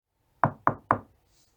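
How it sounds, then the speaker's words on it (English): Three firm knocks on a wooden door in quick succession, close and clear against a quiet background, with no voices. "She knocked on the door to see if anyone was home."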